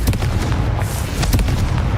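A Confringo blasting spell in Hogwarts Legacy sets off loud, booming explosive bursts with crackling impacts in quick succession, heavy in the low end, with no voice over them.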